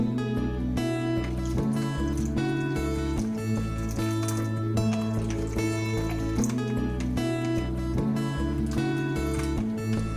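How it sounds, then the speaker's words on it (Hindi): Cold water is poured into a raw mango pani puri mixture in a bowl, making a soft, continuous trickle and slosh close by with light clinks. No one speaks. "ठंडा पानी ऐड करेंगे।"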